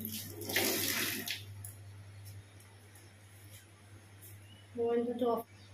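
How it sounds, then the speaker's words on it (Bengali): Hands being washed under a running kitchen tap while cooking, heard as a hiss of flowing water and splashing at the start, a quiet stretch, then a brief burst of water near the end. "এখানে আমাকে হাত ধুতে হবে"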